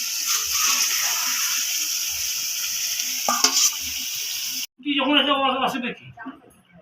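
Fish sizzling in spices in a pan for a spicy fish curry, a steady frying hiss with stirring scrapes that stops abruptly, after which a person talks.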